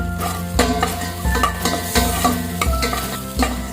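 Ginger being stirred in a pot for mussel soup, with a spoon scraping and tapping in a steady rhythm of about one stroke every half second over a faint sizzle, close and alone.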